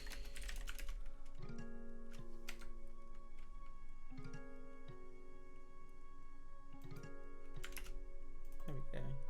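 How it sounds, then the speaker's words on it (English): Fast, uneven typing on a computer keyboard while writing Minecraft server plugin code, a steady patter of close key clicks with brief pauses, over a constant electronic hum. "Sorry, my typing sucks at the moment."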